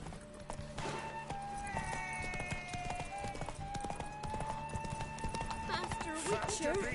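Roach, the horse in The Witcher 3 video game, gallops with steady, close hoof clip-clops throughout, layered with tonal game music and sounds.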